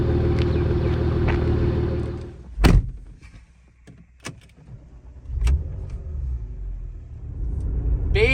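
A Porsche Macan engine idles steadily at close range, with a low rumble, then breaks off into a few sharp clunks and knocks before the engine note swells again toward the end.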